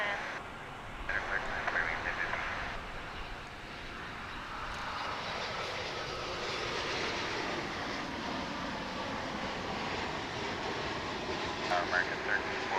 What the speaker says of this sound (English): it's been operated by a Dreamliner. So touching down after almost 15 hours in the sky